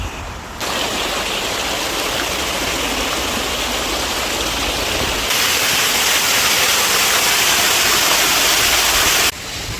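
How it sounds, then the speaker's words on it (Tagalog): Cold spring water runs and splashes steadily as it is collected, a loud, continuous rushing close by that swells stronger midway and carries on alone without any voices. "Si Habi yung naglalagay ng tubig dahil sobrang lamig talaga ng tubig"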